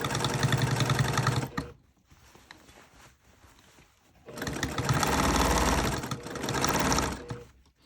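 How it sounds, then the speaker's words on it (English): A treadle sewing machine stitching slowly, giving a close mechanical whirr with a steady stitching rhythm that runs, pauses briefly with quieter clatter, then starts again. "if you've got your treadle machine, don't pedal fast."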